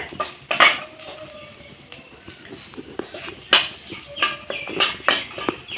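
Whole spices, dried red chilli, cumin seeds and bay leaf are stirred in hot oil in a pan, giving a series of close metallic clinks and scrapes from the spoon over a faint sizzle.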